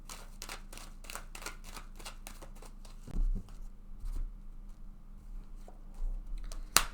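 Tarot cards being shuffled by hand, a rapid run of soft papery riffles and flicks that then gives way to quieter scattered card handling with a few taps; no talking.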